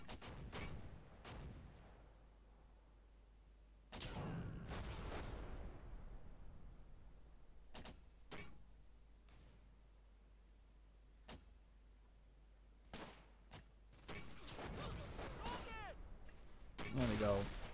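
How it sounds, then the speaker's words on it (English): Artillery fire in the WWII strategy game Close Combat: Gateway to Caen: scattered sharp booms and cracks, some in quick pairs, over a quiet background, growing busier near the end. "Bomb them over here as well."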